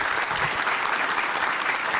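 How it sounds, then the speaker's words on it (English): Audience at a marketing technology conference applauds a panel, a dense steady clapping that fills the whole moment at even loudness with no talk over it. "Can we just give them a round of applause?"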